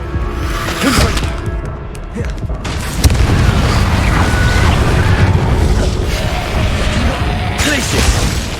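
Deep, heavy blasts and booms from the Confringo fire spell in the Hogwarts Legacy video game, loud and sustained with rumbling impacts and crashes, while a voice speaks over the combat.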